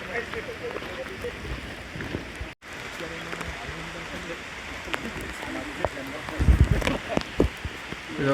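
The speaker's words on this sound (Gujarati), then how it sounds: "વરસાદ ફૂલ ચાલુ છે." Heavy rain falls in a dense jungle beside a river on the trek to Chimar Waterfall, a continuous broad hiss with scattered nearer drops and patters, briefly cutting out before resuming.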